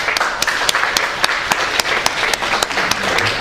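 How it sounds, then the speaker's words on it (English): A debate audience gives a round of applause, steady, dense clapping from many hands filling the room at an even level for a few seconds, with no talking over it. "Can we give him a round of applause?"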